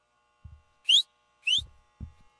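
Two sharp, rising whistle notes about half a second apart sound inside the Roblox horror game Apeirophobia, with soft low thumps like footsteps before and after them; no one talks.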